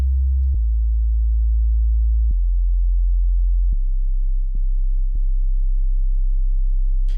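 Deep, smooth 808 bass notes from a Mai Tai synth in Studio One play one at a time in mono, each new note cutting off the last, with a soft click at every change of pitch.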